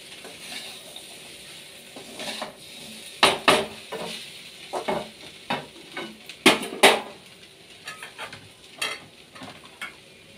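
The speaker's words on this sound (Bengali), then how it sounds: "মাছ ভেজে রেখে দিয়েছিলাম যে চিংড়ি মাছগুলো, ওইগুলো ওই তরকারিটার সঙ্গে দিয়ে একটু নাড়াচাড়া করে নিচ্ছি।" Fried prawns are stirred into a curry in a pan, with a soft sizzle beneath repeated close metal scrapes and clinks of a spatula against the pan.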